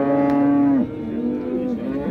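A cow lows loudly and close at a busy livestock market in Oltiariq, one long moo sliding down, then a second, rougher call over crowd noise.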